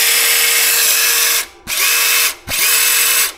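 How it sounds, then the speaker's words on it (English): The outrunner motor of a 1:18 scale RC crawler whines loudly and steadily, cuts out briefly twice and then spins back up, close and mechanical with a drill-like buzz. "That Outrunner motor puts out a lot more noise."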